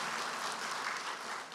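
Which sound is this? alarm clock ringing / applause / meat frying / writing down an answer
applause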